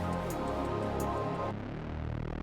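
Dirty, detuned synth bass with heavy distortion drives a dense electronic mix, sustained and buzzing, with the texture shifting abruptly about halfway through as other layers drop away.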